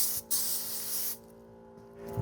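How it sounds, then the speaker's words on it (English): Compressed air blasts across a riding lawn mower, clearing dust and dirt off it as it is being winterized for storage: a steady, close hissing spray that stops briefly after a fraction of a second, resumes, then drops away to a fainter background. "just grab some compressed air and blow off all the dust and dirt"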